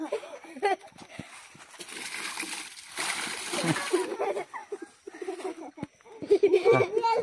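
Children splashing while bathing in water outdoors, irregular splashes and sloshing mixed with children's voices and adult talk nearby.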